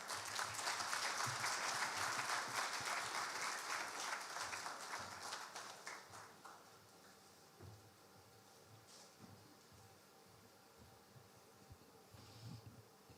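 Applause from a conference audience for the central bank's head of banking supervision, loud at first, then thinning over several seconds into scattered faint claps and room noise.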